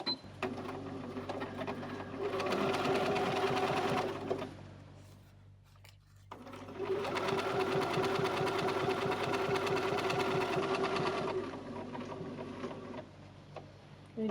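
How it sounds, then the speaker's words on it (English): A domestic sewing machine stitches fabric pieces for a zipper purse in two runs of rapid, even mechanical chatter, each several seconds long. A short quiet pause lies between them, and the machine is close and moderately loud with no talking. "I have the designer thread in the top and the bottom of my machine, and I'm going to just stitch"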